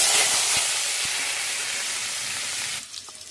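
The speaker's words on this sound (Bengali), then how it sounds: "আলুটা দিয়ে ভালো করে ভেজে নেব।" Potatoes frying in hot mustard oil in a wok for a home-style chicken and potato curry, giving a loud, steady sizzle and hiss close by that eases off near the end, with no talking.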